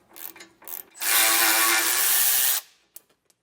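Ratchet wrench breaking loose 13 mm bolts on a steering stabilizer install under a 2020 Entegra coach: a few quick clicks, then a loud, continuous rapid ratcheting rattle for about a second and a half, followed by faint ticks.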